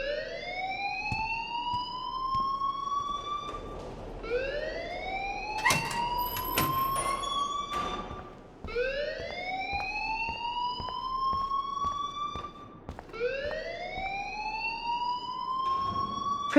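A fire alarm blares inside the school in the game Life Is Strange, a loud rising siren wail that sweeps up and holds, repeating about four times in steady cycles, with short electronic tones and clicks mixed in.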